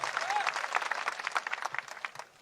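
A crowd at a Thakor community gathering with Vikram Thakor claps loudly in a rippling burst that slowly thins out. Voices and a short whistle-like tone sit under the applause.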